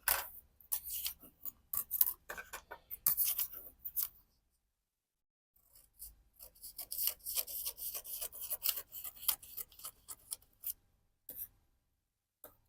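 Scissors snipping through a paper dress pattern for an A-line dress front neckline and armhole, quick crisp cuts in close bursts, a silent pause midway, then a longer run of rapid snips.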